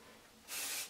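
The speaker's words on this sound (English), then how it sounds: "and then just give it a good spray." A Tresemme dry shampoo aerosol can lets out one steady, close hiss of spray lasting about half a second, following a brief quiet pause.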